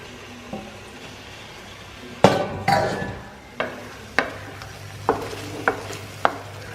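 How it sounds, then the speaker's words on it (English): Potato and peas go into a simmering coconut chicken stew: a run of sharp spoon-and-pot clunks and stirring scrapes repeats at a steady pace over a quiet bubbling background, close by, with no talking. "Now the stew is coming. I'm going to add some potato and peas"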